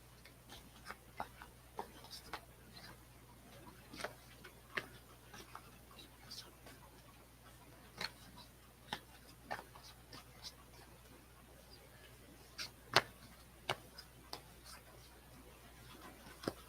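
Tarot cards are handled and shuffled in irregular bursts of soft slaps and ticks, close by against a quiet background hum.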